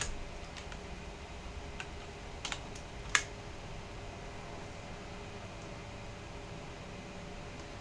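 Quiet typing on a computer keyboard, a few scattered key clicks over a faint hiss, with one sharper tap near the middle.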